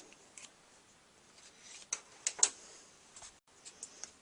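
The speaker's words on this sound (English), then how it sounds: "I'm just going to take my scissors with this small little point and just cut them out" Small pointed scissors snipping paper leaves for a handmade fall card, quiet close crisp clicks and short cuts in an irregular rhythm, with a few sharper snips near the middle.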